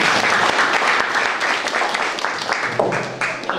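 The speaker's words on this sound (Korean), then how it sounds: "박수 한번 주십시오" Dense, sustained applause from a seated audience at a talk concert, many hands clapping together at even loudness throughout, with no voices standing out.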